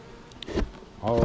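Bees in an open package bee colony hive hum in a low, close buzz that swells in two louder surges, with a faint voice in the background.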